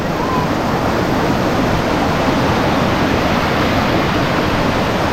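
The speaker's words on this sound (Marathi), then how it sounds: "पाण्याला प्रेशर बघा किती आहे आणि खूप खोल आहे." Dhodani waterfall pours with strong pressure, a loud, dense, unbroken roar of rushing water close by that holds steady throughout.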